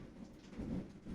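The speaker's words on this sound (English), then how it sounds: "Starting to rain more." Rain falls outside an open door, a soft, steady hiss with a low rumble underneath. It swells slightly midway through and carries on without any voices.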